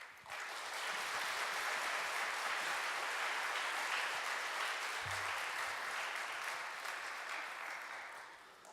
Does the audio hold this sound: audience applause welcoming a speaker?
yes